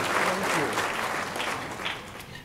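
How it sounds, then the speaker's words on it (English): A conference crowd at the ALC '17 Financial Services Braintrust applauds the panel, a full, steady roar of clapping that slowly tapers, with a voice faintly audible beneath it. "Give the panel a big round of applause."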